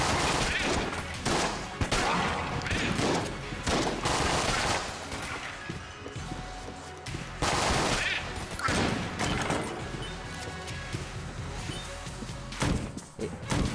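Rapid gunfire rattles almost without pause in Enter The Gungeon, dense close bursts and impacts filling the whole stretch, with a voice talking over the shooting.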